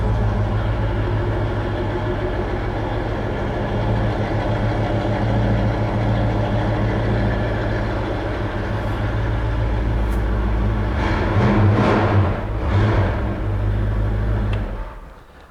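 A Ford Mustang with an aftermarket exhaust idles steadily with a deep, burbling exhaust rumble, close by, then briefly blips louder before the sound cuts off.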